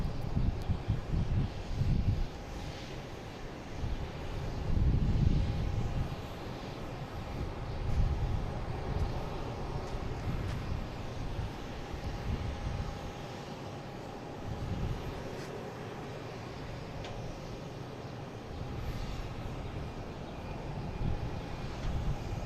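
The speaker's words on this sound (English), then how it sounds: "Got a Cape Air on the bottom here, and a Delta coming in from Detroit. Cape Air landing on 22 right and the Delta landing on 22 left." Cape Air and Delta airliners land on parallel runways at Boston Logan International Airport on a Sunday afternoon, heard as a distant swelling jet rumble that rises and fades amid steady outdoor background noise.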